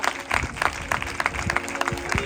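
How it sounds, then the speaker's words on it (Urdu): Church congregation at a monthly prayer meeting applauding, a burst of dense, close clapping with irregular peaks that carries on for a couple of seconds under a faint murmur. "آئیے اس کلام کے لیے زوردار تالیاں, زوردار"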